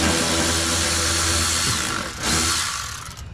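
Power tool spinning out bolts on the window regulator of a 2005 Chevrolet Avalanche (GMT-800), a steady loud whir that dips briefly near the end before revving up again.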